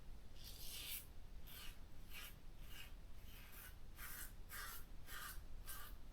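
Rex Konsul adjustable slant razor making a second shaving pass across the grain, a steady series of close, soft scraping strokes in a regular rhythm with short pauses between them, no talking.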